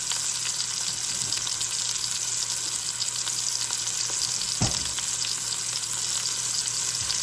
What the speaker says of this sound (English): Enjoy that ASMR sizzle sound.